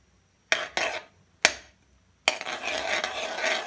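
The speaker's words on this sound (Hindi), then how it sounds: "इन्हें आप मिक्स कर दें।" A spoon scrapes and clinks in a pan as butter and pav bhaji masala are stirred together, with three sharp separate knocks followed by continuous scraping and stirring, close and fairly loud.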